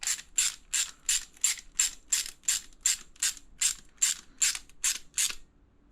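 Ratchet tightening a nylon locking nut on an alpine ski touring adapter, about fourteen evenly spaced clicking strokes, close and clear, then stopping.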